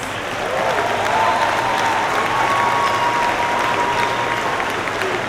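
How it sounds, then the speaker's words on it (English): Sustained applause from a graduation ceremony audience of families in a large hall at a 2012 high school senior commencement, steady and full throughout with faint crowd voices mixed in. "Give yourselves a round of applause because these are your kids."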